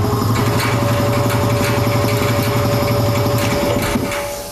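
A two-stage air compressor runs loud and close with a fast, steady mechanical chugging and a constant whine, then starts winding down at the end.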